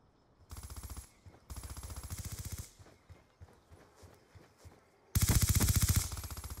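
Automatic gunfire in the video game Call of Duty Black Ops 2, three sustained rapid-fire bursts, the last one loudest and closest, with quieter gaps between them.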